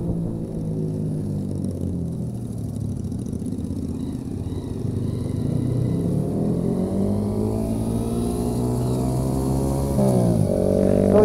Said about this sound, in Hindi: तो ये बाइक का सबसे बेस आवाज आ रहा है